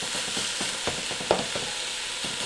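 Ground beef sizzles steadily in a hot pan while a utensil chops and scrapes it in irregular taps, the dense frying hiss continuous and close.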